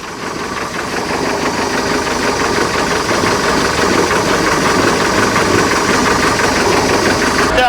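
A 1968 Starcraft Islander boat's Mercruiser 120 hp engine, a barn find, runs steadily at close range, a loud, constant mechanical drone with a rapid knocking pulse and no letup throughout.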